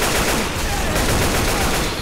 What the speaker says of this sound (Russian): Я сажу выстрел по одной бочке.